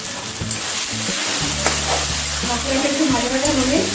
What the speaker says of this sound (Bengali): মশলাটা ভাজা হতে হতে আমি এর মধ্যে হলুদ দিয়ে দেবো।